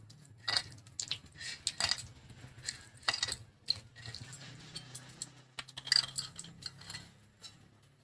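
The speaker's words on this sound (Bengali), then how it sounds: "এবার এটাকে চটকে নেব।" Peeled raw tamarind is squeezed and mashed by hand at close range, making soft, irregular wet squishes and light clicks at a low level, with no talking.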